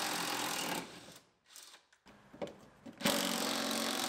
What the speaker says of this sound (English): And we can unbolt the bed.